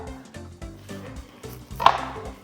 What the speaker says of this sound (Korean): 큼직큼직하게 썰어놔 주시고요.